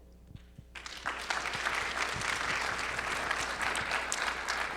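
Audience applause at a networking event at the Westin Bayshore, starting after a brief quiet moment and swelling into steady, dense clapping from a sizable crowd that holds until the end.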